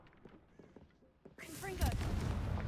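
A Confringo fire spell blasts in the Hogwarts Legacy video game, a sudden loud burst that follows quieter game sounds and then sustains as a broad roar with crackling, whooshing debris.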